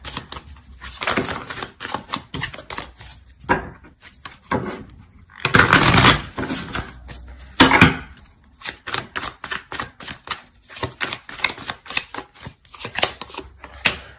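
Tarot cards are shuffled and laid out on a table in quick, close, crisp flicks and slaps, coming in clustered bursts with short pauses, and no talking.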